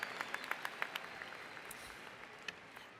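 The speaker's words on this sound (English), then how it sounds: "Everybody give President Amy a round of applause." Audience applause at a university commencement ceremony, a faint, distant wash of clapping from a large crowd with some sharper individual claps standing out early, then gradually thinning.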